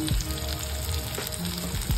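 Onion, grated coconut and coriander seeds fry in hot oil for a masala paste, giving a steady, close sizzle with soft scraping stirs and occasional crackles, no voices.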